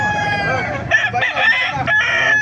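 Lemon Sweater gamefowl rooster, about two years old, crowing nearby in a loud, drawn-out call at a market, broken into a few rising and falling segments over the course of one crow.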